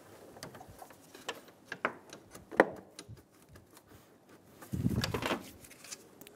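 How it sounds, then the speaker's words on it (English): Upper radiator hose being fitted onto a 2003-2007 Infiniti G35: close, uneven clicks, taps and rubbery rubbing of hose and plastic parts, with a few louder knocks and a longer scraping burst near the end, no talk. "Install the upper radiator hose."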